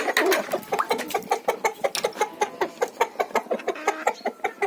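Chickens and a rooster cluck in a farmyard, a rapid string of sharp, close clucks in an uneven rhythm, loud and clear with no voices.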